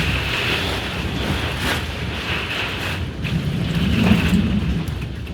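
Heavy rain pours steadily during a storm, a dense wash of noise with a low rumble of thunder rising toward the end; the setting feels like a rocking boat.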